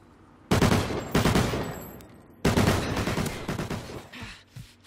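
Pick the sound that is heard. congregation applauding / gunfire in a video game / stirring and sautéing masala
gunfire in a video game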